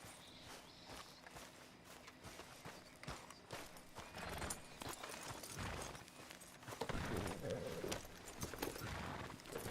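Horse hooves clip-clop at a steady walking pace in the Red Dead Redemption 2 video game. The footfalls are fairly faint and mixed with other game ambience.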